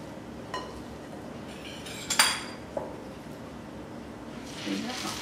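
A big spoon scoops a mixture from a dish, making a few light metallic clinks and scrapes against the dish, close but fairly quiet over a soft background.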